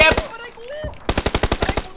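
Rapid automatic gunfire in a video game, a fast steady burst of a dozen or so sharp shots, loud and close, following a brief moment of voice.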